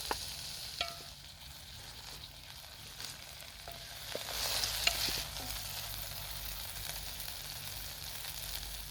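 Chopped tomatoes and onion fry and sizzle quietly in oil in a saucepan on a Trangia camping stove outdoors, a soft continuous crackle with occasional stirring scrapes, faint and close, no voices.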